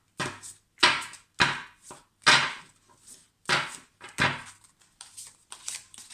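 Oracle cards from a medieval-themed deck being shuffled by hand: a series of sharp, papery riffling bursts in an uneven rhythm, loud and close, with brief pauses between them and no talking.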